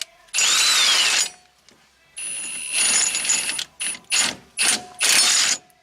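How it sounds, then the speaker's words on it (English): Power tool driving a press to push a stripped wheel stud out of a wheel hub, several loud close bursts of whirring, ratcheting mechanical noise separated by pauses. "you just want to drive this press in"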